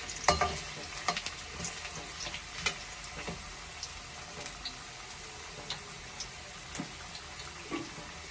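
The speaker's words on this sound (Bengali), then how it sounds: "এবার আলুটাকে আমি ভেজে নেব।" Potatoes frying in a hot pan over a high flame while a vegetarian cabbage dish is being cooked, giving a steady close sizzle with scattered crackles and pops that run throughout.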